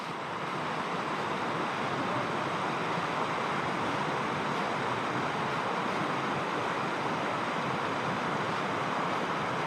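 Small river rapids spilling down from a slope make a constant, dense rush of flowing water that stays steady and fairly loud throughout, with no voices.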